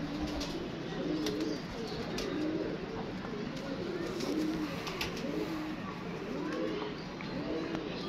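Teddy pigeons in a loft coo in a steady, repeating rhythm, soft and close, with occasional light chirps over a constant background hiss.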